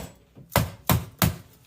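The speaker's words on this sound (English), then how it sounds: "You're going to take the end part of your knife. You're going to give those knuckles" Three sharp knocks from the back end of a knife striking a live lobster's knuckles, evenly spaced about a third of a second apart, close and fairly loud with a dull, woody thud to each.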